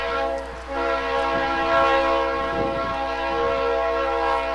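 A train on a short line railroad sounds its horn as it passes, a loud sustained chord blaring over the rumble of the cars, close by and dominant throughout.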